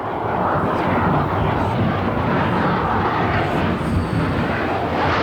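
A newly opened vent on an active volcano, degassing constantly, gives off a loud, continuous jet-engine-like roar that stays steady and close throughout, with a voice speaking faintly beneath it.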